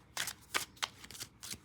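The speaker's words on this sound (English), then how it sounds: "I'm going to shuffle these cards over here." A deck of tarot cards is shuffled close by in five quick, crisp riffling bursts spaced a beat apart, quiet and alone in an otherwise hushed room.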